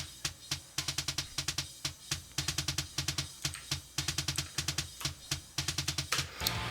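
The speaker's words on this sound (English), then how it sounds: "Simple, so you're getting that beater attack." Kick drum captured by a kick-in microphone inside the drum, each hit a sharp, clicky beater attack with a short low thump, played alone in a steady rock-style pattern of repeated single and double strikes, close and dry.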